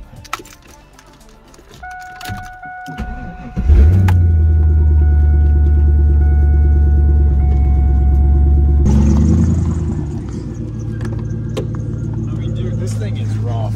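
A Camaro's LS V8 turns over and settles into a loud, steady, rumbling idle close by, heard after a few seconds of quieter rattling and key jangling, with people talking over it.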